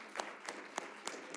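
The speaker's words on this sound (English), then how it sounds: "One more round of applause for all the winners and for everyone here today." Audience applause at a hackathon awards session in a ballroom, heard as faint, even clapping across a crowd with a few sharper claps standing out.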